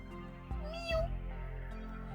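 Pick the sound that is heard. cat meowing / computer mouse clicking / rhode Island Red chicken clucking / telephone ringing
cat meowing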